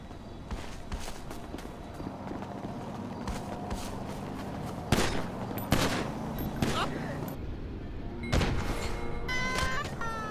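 Gunshots in GTA V: several loud, sharp reports crack out at irregular intervals across a steady background bed, with lighter clicks and footstep-like taps between them.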